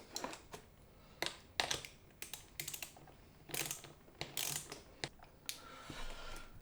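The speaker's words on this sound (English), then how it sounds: "Let's tighten the screws." Screws are tightened on a small LiFePO4 battery pack, giving a series of sharp, close clicks and ratcheting ticks in irregular bursts with quiet gaps between them.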